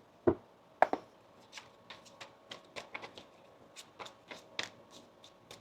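Tarot cards are shuffled by hand in a quiet room, giving soft, close riffling taps and flicks in an irregular patter, with two sharper snaps near the start.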